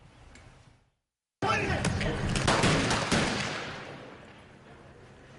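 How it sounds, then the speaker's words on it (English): Gunfire in a police shootout in downtown Los Angeles: a burst of loud, rapid shots after a brief silence, echoing and fading off, with faint talk at the start. "Gunfire erupted in downtown LA as the LAPD encountered an assault suspect"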